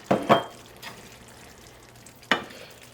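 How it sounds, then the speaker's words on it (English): Calico scallops, about 100 grams, dropped into a hot pan give a couple of sharp, close sizzling bursts, a short quieter stretch, then one more hiss. "At this point, we are going to add our scallops."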